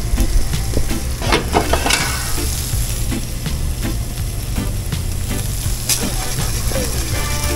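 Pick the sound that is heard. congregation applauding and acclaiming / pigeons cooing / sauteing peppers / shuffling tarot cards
sauteing peppers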